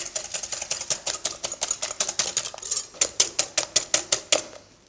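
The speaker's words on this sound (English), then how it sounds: "give that a quick whisk through" A whisk beats egg whites with salt and sugar in a bowl, making a steady run of quick, close rhythmic clinks and scrapes, about four strokes a second, that ends abruptly.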